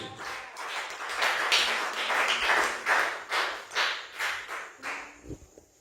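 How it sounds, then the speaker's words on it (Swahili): A church congregation claps together in a steady rhythm for several seconds, the applause fairly close and full, then thinning into a few separate claps at the end. "Pigie Yesu makofi mazuri."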